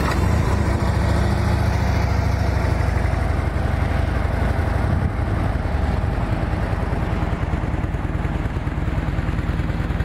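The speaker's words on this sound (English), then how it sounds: "Let's fire this baby up and see what it sounds like. It's got the factory exhaust on it," A Harley Davidson Tri Glide trike with factory exhaust idles nearby, a steady, even low engine rumble running throughout without talk.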